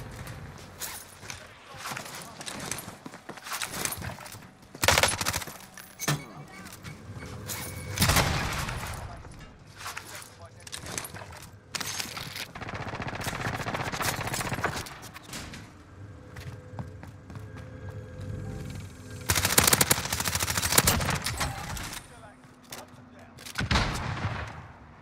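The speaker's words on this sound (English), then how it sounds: "I'm getting shot from the backside too." Gunfire from Call of Duty: Modern Warfare comes in loud, irregular bursts of rapid shots and heavy thuds spread across the stretch, with quieter gaps between volleys.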